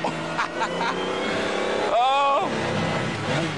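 A PlayStation racing game car engine whines and shifts pitch over a steady electronic drone, with a brief rising rev in the middle.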